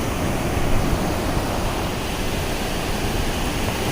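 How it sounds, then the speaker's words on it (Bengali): Heavy rain pours down at Tanah Lot temple by the sea in Bali, a loud, even, unbroken hiss with no voices. "বৃষ্টি পড়ছে"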